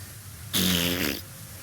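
A single wet fart sound effect from the PowerWash Simulator 2 video game bursts out loud and close for under a second, then quiet returns.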